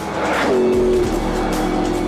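A car accelerating hard at very high speed gives a loud, continuous engine roar that sustains throughout with a steady rising tone, close and alone with no talking.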